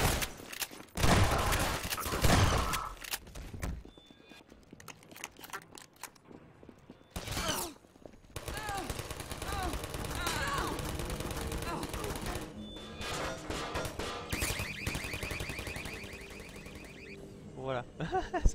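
Turret gunfire in the video game Half-Life 2 comes as sharp bursts and rapid mechanical fire, broken by gaps and layered with game clatter and someone speaking.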